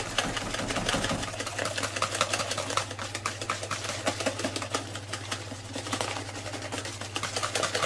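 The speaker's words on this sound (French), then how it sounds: "avec votre fouet, vous allez venir fouetter vigoureusement pour incorporer le beurre à la préparation" A whisk beaten vigorously through soft butter and warm cream sauce for a royale-style rabbit dish, giving quick, steady rhythmic clicking and ticking against the pan over a constant low hum.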